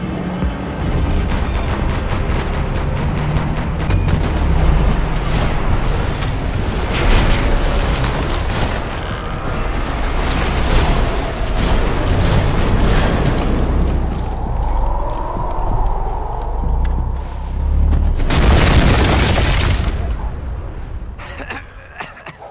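Gunfire and explosions in the action game Max Payne 3, dense and loud rapid shots, booms and debris bursts that continue throughout, with shouting voices mixed in.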